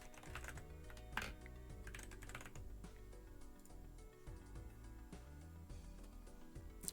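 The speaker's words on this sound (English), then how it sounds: "Wasn't this set on a Razor keyboard with Razor Greens in it? Or even blues?" Rapid typing on a Razer mechanical keyboard with clicky switches, dense continuous keystrokes heard close and fairly quiet under background music.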